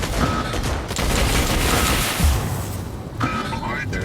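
Mortar and beam weapon fire in the mech combat game MechArena, a dense, continuous barrage of blasts and bursts at steady loudness that thins briefly near the end before resuming.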